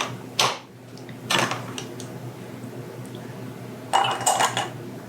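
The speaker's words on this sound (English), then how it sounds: "I like to kind of spoon drain mine a little bit so there's more jalapenos to the jar than syrup." A spoon draining candied jalapenos and clinks against glass jars while filling them, making a few separate close metallic clatters and scrapes with quiet pauses between them.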